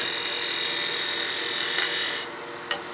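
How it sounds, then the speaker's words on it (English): A lathe gouge takes a slicing cut across a spinning wooden tenon for a snowman oil candle, giving a close, continuous hissing scrape that stops abruptly after about two seconds, followed by a single light tap. "We'll do a slicing cut here to give us some clean fibers."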